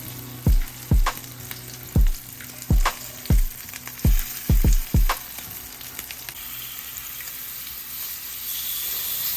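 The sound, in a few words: spicy fish pieces frying on a tawa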